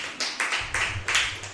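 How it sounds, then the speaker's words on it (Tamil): An audience claps at a Tamil spiritual talk, a short burst of steady, evenly spaced claps that sounds close and somewhat sparse, like a small group, with no voices over it. "இவ்வளோ நல்ல கைத்தட்டலாம்."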